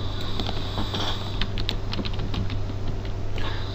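Rapid, close keystrokes on a computer keyboard clatter in irregular bursts over a steady low electrical hum.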